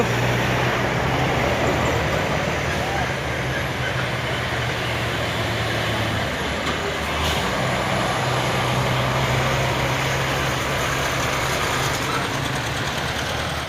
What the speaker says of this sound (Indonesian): Ada trailer yang akan menanjak bosku sama truk Fuso 4x2 HD box.